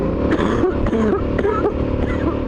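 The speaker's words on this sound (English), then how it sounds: "The COVID cough." A few short, harsh COVID coughs come close by over the steady engine hum of a Suzuki V-Strom motorbike.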